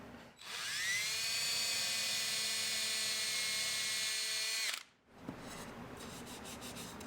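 A power drill drives a screw into a wooden table, giving a loud, close, rising whine that holds steady for several seconds, then cuts off abruptly, followed by a softer clatter.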